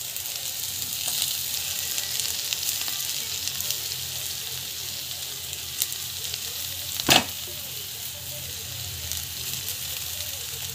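Vegetables with turmeric and coriander sauté in a pan, making a steady, loud hiss and crackle throughout, with faint stirring and one sharp clink of a utensil near the end.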